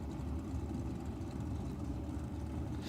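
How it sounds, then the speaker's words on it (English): Engine of a 1937 Ford Coupe nostalgia drag racing car idling, a steady low rumble held at constant loudness throughout, with a broad noisy wash over it and no voices. "How nice does that 37 Ford Coupe? I mean, it looks good, it sounds nice, it goes well."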